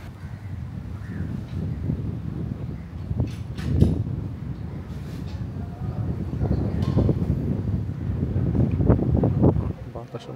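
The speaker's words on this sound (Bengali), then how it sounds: "বাতাস আমার ঠেলে মসজিদের মধ্যে ঢুকা দিচ্ছে।" Strong wind blows outdoors at the Floating Mosque in Penang, Malaysia, buffeting the microphone in steady loud gusts that rise toward the end, while a voice talks through it.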